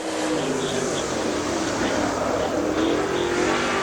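Race car on its first qualifying lap at Dixie Speedway in a Steelhead 525 class event, a steady engine drone heard from a distance under the general roar of the track.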